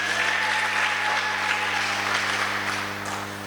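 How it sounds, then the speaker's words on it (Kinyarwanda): A church congregation breaks into sustained, dense applause, a loud, even wash of clapping that holds steady for several seconds before easing slightly at the end. "Tumukomera amashyi Yesu."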